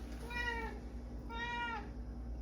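A cat gives two clear, drawn-out meows one after another, moderately close against a steady low hum.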